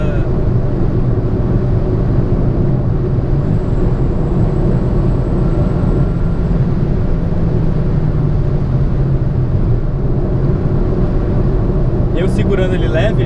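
A Citroen C3 with automatic transmission pulls away under throttle, its engine drone and road roar loud and constant inside the cabin, rising gradually as it heads toward fourth gear, with a short clatter near the end.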